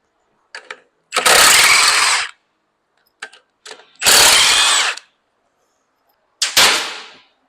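An impact gun hammers at bolts on a blown Cummins ISB 6.7 engine during a teardown, firing in three loud, roughly one-second bursts with brief clicks and short pauses between them.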